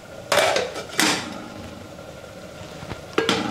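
Metal lid lifted off a cooking pot of broken wheat sambar rice, a few sharp clanks and scrapes spaced apart, close and clear with no talk.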